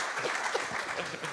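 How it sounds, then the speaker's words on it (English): A live audience at an evening talk applauds in a steady, dense wash of clapping that carries through without a break, moderately loud and filling the room, with faint voices mixed underneath. "It usually gets a round of applause"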